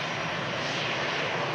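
A very loud airplane roars overhead at Manchester Airport, a dense, constant engine rumble filling the whole moment with no talk.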